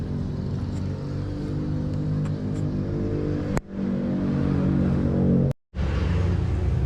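A vehicle engine, just repaired with a new hall sensor, hums steadily and close as the vehicle pulls away for a road test. The even drone breaks off briefly twice.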